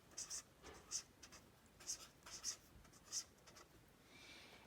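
Pen or marker writing letters on a board or paper during a math lesson, a series of short scratchy strokes in quick bursts, fairly close and quiet, with a soft pause between groups of strokes.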